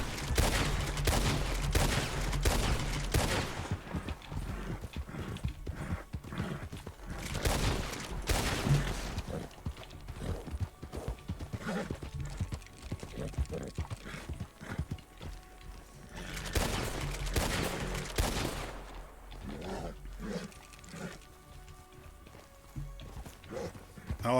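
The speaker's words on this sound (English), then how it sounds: "I can't believe they're shooting within 2 seconds." Gunshot volleys from the Red Dead Redemption 2 video game mixed with galloping horse hooves, loud rapid bursts early and again midway over steady clip-clop, with someone talking at times.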